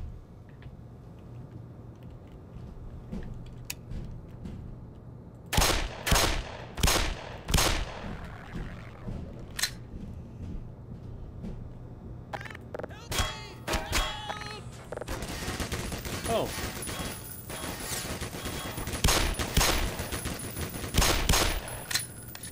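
Gunfire in the video game Black Mesa Source, scattered sharp shots at first and then rapid bursts and sustained automatic fire, loud and close.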